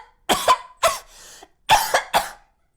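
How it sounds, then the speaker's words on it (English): A voice coach demonstrates a feminine-sounding cough: two short pairs of light, breathy coughs with a brief airy pause between them, close and clear against silence. "This is how to cough like a woman."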